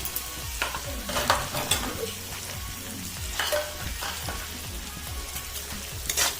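Prawn curry masala being stirred in oil for a coconut milk prawn malai curry, a soft sizzle under repeated scraping strokes of a spatula against the pan in an uneven rhythm, close and with no voices.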